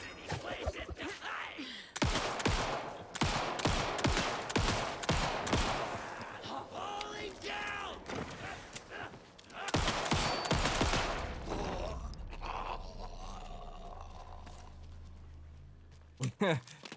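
Repeated bursts of gunfire in the horror game Alan Wake 2 crack out in rapid volleys, some fading into echoes, with someone talking over parts of it and a few final shots near the end.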